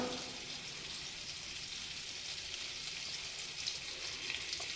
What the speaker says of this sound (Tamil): வெண்ணெய் வந்து உருகணுமே தவிர காஞ்சிடக்கூடாது, நெய் ஆகிடக்கூடாது. இது வந்து அன்சால்டட் பட்டர் தான்.